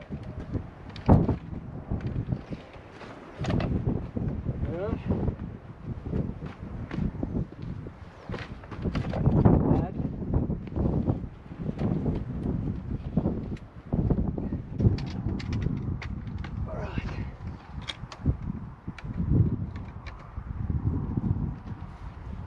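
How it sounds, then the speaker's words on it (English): Strong wind buffeting a microphone on an exposed mountain ridge, a continuous low rumbling roar with repeated gusts and thumps throughout. "Because there's so much wind, we're up on the ridge here."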